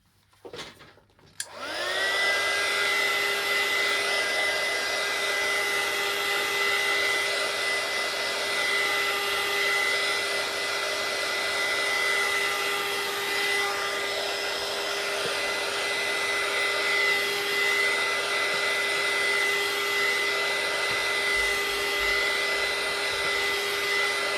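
A hair dryer switches on after a few handling clicks and blows continuously at close range with a steady whine, drying a mixed media envelope made with paper pages.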